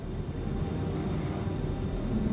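Inside an Avro 146 regional jet just after takeoff, a steady broadband cabin roar of engines and airflow holds constant at moderate level, with no speech.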